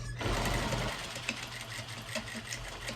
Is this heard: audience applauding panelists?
no